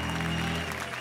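A studio audience breaks into applause for a singer on a Turkish TV talk show, a dense, steady wash of clapping that holds for the full second, with a low music hum underneath.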